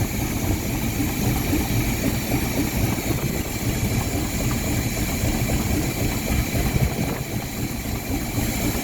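A car engine fitted with a Rochester Quadrajet carburetor idles steadily during tuning, a loud, continuous, even rumble with no revving and no voices.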